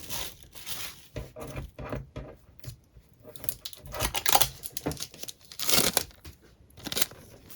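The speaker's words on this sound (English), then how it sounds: "I'm going to overlap it with another piece of sticky tape" Sticky tape pulled off a roll and pressed over a dowel while making a resin wineglass lampshade, giving close, irregular tearing and crinkling bursts with short pauses between.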